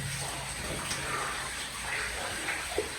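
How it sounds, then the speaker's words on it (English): Water flows steadily inside a cave, a faint continuous gushing and trickling with soft splashes, quiet and unbroken for a few seconds. "it's moving water"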